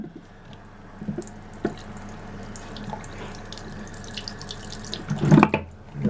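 Water runs and trickles into a homemade drink dispenser with faint splashing and drips, broken by a few small knocks and a louder gurgling burst near the end.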